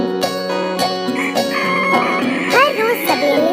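A cartoon-style rooster crows in the morning, a brief rising call near the end, heard over background music and a child-like narrating voice.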